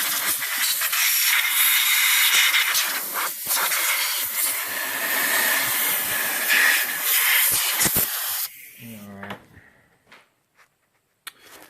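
Loud, steady hiss of compressed air blowing dust from a 2001 Ford F150 5.4L engine for about eight seconds, then cutting off into a few faint clicks and quiet handling.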